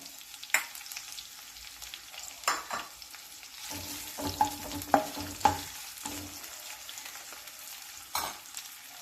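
Curry leaves and chopped onions fry in a pan for bottle gourd curry, a continuous gentle sizzle punctuated by several spoon scrapes and stirring clinks, with no talking.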